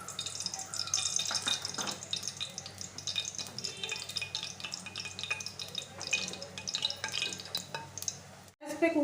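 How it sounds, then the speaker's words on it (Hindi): Oil hisses and sizzles in a pressure cooker as mutton korma is cooked, with steady close-up crackling, some stirring and light clinks. "अब हम एक कुकर में तेल डालेंगे।"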